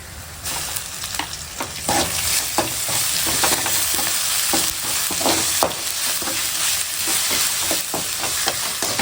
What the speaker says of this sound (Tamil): வெங்காயம் நல்லா வதங்கணும் வதங்கிட்டு இஞ்சி செஞ்சுட்டு இருக்கேன்